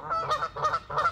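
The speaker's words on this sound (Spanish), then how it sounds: "Escuchen a los patos, miren qué cosa más bella." Waterfowl at a lake in a Virginia park call in three quick honking bursts, close and clear, with no talk.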